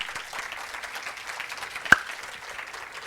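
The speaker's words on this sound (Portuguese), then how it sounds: "Palmas para ele, pessoal." An audience at a talk on digital transformation applauds a speaker, a steady patter of many hands clapping at moderate distance, with one sharper nearby clap standing out midway.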